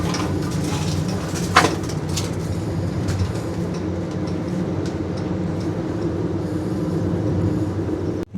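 A Vande Bharat Express running from Howrah to New Jalpaiguri produces a steady rumbling roar heard from inside the coach, with a constant low drone and occasional faint clicks and rattles.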